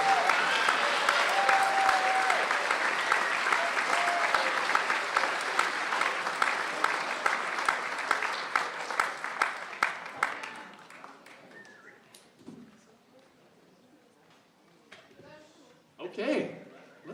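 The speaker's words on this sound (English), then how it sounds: "Give a round of applause." Audience applause fills a school spring band concert after a saxophone ensemble piece, dense clapping for about ten seconds, then thinning to scattered claps and a brief late burst.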